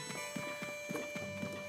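Horse hooves clip-clop at a steady walking rhythm in Zelda: Breath of the Wild, soft and fairly faint over a sustained tonal music bed, with no voices.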